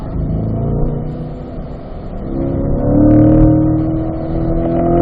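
A car accelerates out of a turn on a racetrack, its engine note climbing steadily in pitch and loudness from inside the cabin, then holding at a strong drone.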